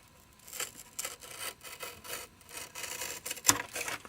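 Sawing through a wall piece for a model Tudor cottage, a steady run of close rasping strokes with a brief sharp click near the end; no voices.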